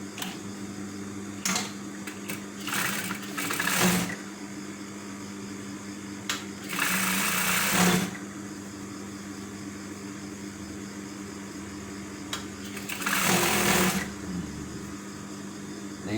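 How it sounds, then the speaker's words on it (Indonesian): A sewing machine stitches around the front of a jacket hood in several short bursts of whirring motor noise, separated by quieter pauses, close by with no speech. "Nah, bagian depannya kita jahit lagi keliling."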